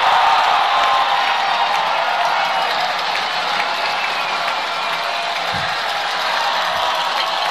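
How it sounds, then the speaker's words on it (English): A soccer stadium crowd at Chattanooga FC versus Club De Lyon FC roars after a free kick goal, a loud sustained wall of cheering and clapping throughout. "You can hear the crowd lose their minds."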